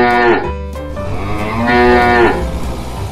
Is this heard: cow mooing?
yes